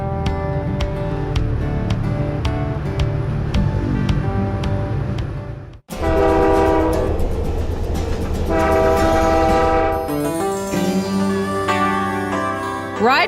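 A Canadian Pacific passenger train rolls along the rails with steady clatter, its horn sounding in long loud blasts, broken by a sudden brief dropout before the horn returns.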